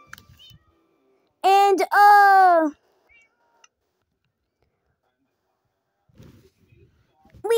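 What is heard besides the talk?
black cat meowing in the video game Minecraft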